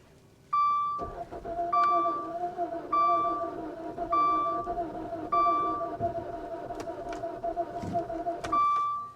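A car with a naturally aspirated 2.4-litre engine cranks and starts, then runs with a steady idle drone while repeated electronic warning chimes sound at regular intervals.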